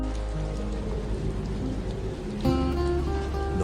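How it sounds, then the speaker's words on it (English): Heavy animated rain pours down in a dense, continuous hiss with steady low rumble, growing slightly louder and fuller near the end, with no voices. "The rain is too loud and scary."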